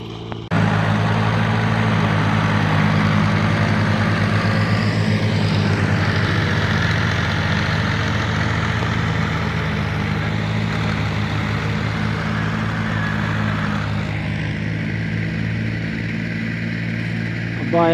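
An engine runs for the whole stretch, a loud steady close drone as a tractor works newly cleared farmland, with speech mixed in.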